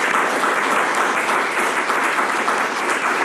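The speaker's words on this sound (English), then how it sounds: "So let's applaud our candidates." A candidate forum audience gives a sustained round of applause, a dense, even patter of many hands clapping with no voices over it.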